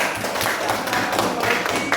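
A classroom of students claps after a correct answer in a religious education lesson, a dense, continuous patter of many hands heard close up.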